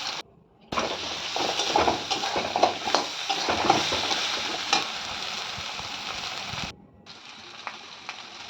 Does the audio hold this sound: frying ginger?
yes